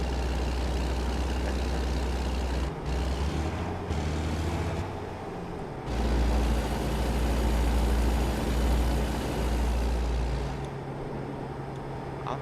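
A heavy truck cruises along a highway in American Truck Simulator, its low engine drone steady and loud, with brief dips and a hiss like an air brake partway through, and no talking.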